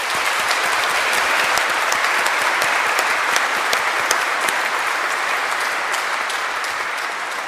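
An audience at a Catholic celebration marking priests' 50th and 60th ordination anniversaries applauds loudly and steadily, a dense wash of clapping that carries on without a break.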